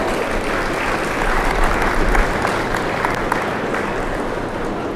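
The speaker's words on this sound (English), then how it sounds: "Let's give these senior exhibitors a nice round of applause." Audience applause for senior exhibitors at the LaPorte County Fair 4-H beef show, a steady dense wash of many hands clapping throughout, loud and sustained with no talk.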